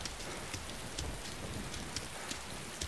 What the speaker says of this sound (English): I thought the rain had gone off, but obviously not.